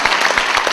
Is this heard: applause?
yes